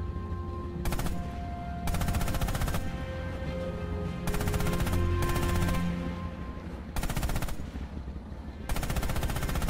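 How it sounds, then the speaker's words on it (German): Coaxial machine gun on a tank firing in Red Orchestra 2, heard as loud repeated bursts of automatic gunfire separated by short pauses, with a steady engine rumble underneath. "Schießen Sie mit dem Koax-MG auf diese Ziele."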